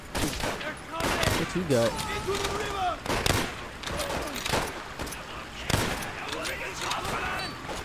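Gunfire in the World at War campaign video game: repeated sharp shots and bursts scattered throughout, under a player's voice talking over them.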